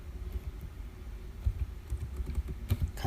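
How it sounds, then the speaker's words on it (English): Keys clatter on a computer keyboard in quick irregular taps while text is entered in Microsoft PowerPoint, close and moderately loud over a low background rumble. "then you type"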